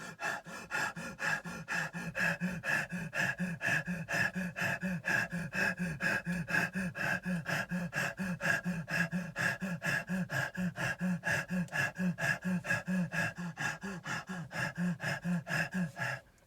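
Rapid, rhythmic breathing from a hyperventilation breathing exercise, with sharp forceful breaths repeating at a steady fast pace for the whole stretch, close and loud with no talking.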